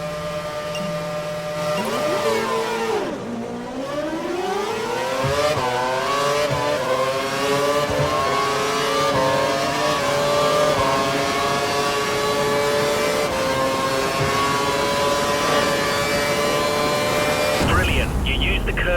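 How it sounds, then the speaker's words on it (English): Formula 1 cars in the F1 2012 racing game scream at high revs as one overtakes another, the whining engine pitch climbing and holding steady through gear shifts, loud and continuous, with a voice talking over it. "KERS and DRS to good effect and we're able to pass the car."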